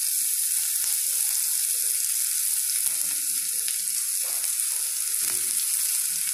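Boiled, crumbled catla fish frying in a pan, a continuous close sizzle with soft scraping stirs and small pops through the whole stretch and no speech.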